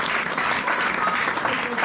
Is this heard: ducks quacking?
no